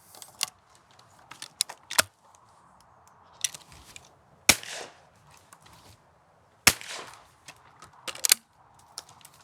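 Shotgun shots ring out at a driven pheasant shoot, several sharp loud cracks at irregular intervals, some in quick pairs, with faint outdoor ambience between them.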